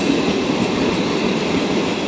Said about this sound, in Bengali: এই ট্রেনটা শিয়ালদা থেকে আসছে।